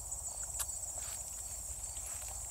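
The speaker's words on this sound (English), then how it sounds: "you can tell it's fall because you can hear the crickets" Crickets chirp faintly through an autumn outdoor scene with blooming thistles, a steady high insect trill running through the background under general outdoor ambience.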